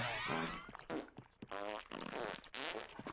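Cartoonish fart noises from the video game Conker's Bad Fur Day, several blasts of varying length coming in quick bursts, loud and close, with no talking over them.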